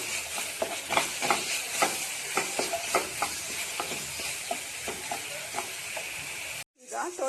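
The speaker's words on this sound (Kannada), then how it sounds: "ಇದು ಚೆನ್ನಾಗಿ ಫ್ರೈ ಆಗಲಿ." Mint and ginger-garlic paste with spices frying in a pan, a steady close sizzle broken by repeated scraping stirs, ending in a brief silence before the sizzle returns.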